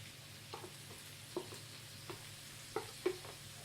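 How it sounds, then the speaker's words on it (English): Leeks and onions stirred back into ground lamb frying in a pan for shepherd's pie, a faint low sizzle with a handful of soft utensil scrapes and taps close by, no talking. "I'm going to add the leeks and onions back to it."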